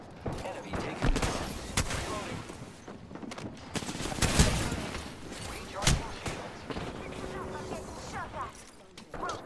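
Scattered gunshots in a shooter video game, several sharp cracks at irregular intervals over constant background game noise, some louder and closer than others.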